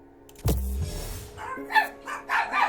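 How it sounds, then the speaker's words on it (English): Dogs barking in the Pinball M video game, a loud thud followed by a run of four or five quick barks, fairly close and clear over a faint steady electronic tone. "There's the dogs barking"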